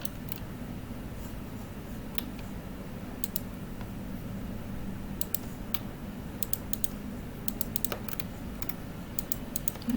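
Computer keyboard typing in AutoCAD, scattered quiet key clicks in short bursts over a low background hum, close and soft with no voice.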